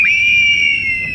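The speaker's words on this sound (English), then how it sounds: "Can we get a reenactment of the scream? How loud of a scream was it?" Girls reenact a scream, giving one loud, sustained, high-pitched shriek that lasts about a second, close and steady from start to finish.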